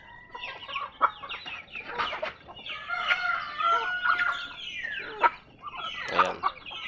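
Native hens on a poultry farm cluck and squawk in a busy, overlapping chorus, with a rooster-like crow rising now and then, close and fairly loud with no talking.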